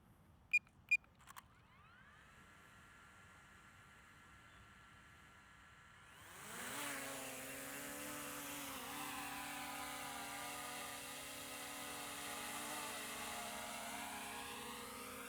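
A small DJI Mini 3 Pro drone spins up and lifts off after a few sharp beeps, its propellers rising into a steady, high-pitched buzzing whine that holds for several seconds nearby.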